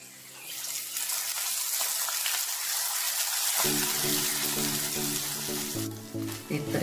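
Hot liquid is poured into a dish of semolina and coconut milk dumplings, a steady splashing and sizzling wash that holds for several seconds before a humming tone joins in.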